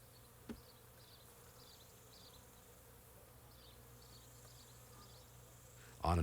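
Honey bees hum around their hives on a hot August afternoon during a honey harvest, a soft continuous buzz with a single sharp knock early on and a loud burst of noise at the very end.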